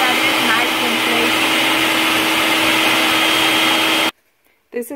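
A blender runs loud and steady, crushing red chili salsa ingredients, then cuts off abruptly, leaving near silence and a brief clatter at the end.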